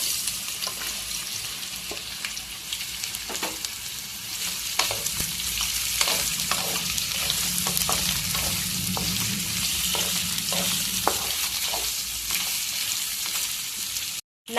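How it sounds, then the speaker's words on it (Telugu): Sliced bitter gourd fries in oil in a pan, giving a loud continuous sizzle with occasional stirring clatters and bursts of crackle, ending abruptly. "ముందుగా కట్ చేసి పెట్టుకున్న కాకరకాయలు వేసుకోవాలి."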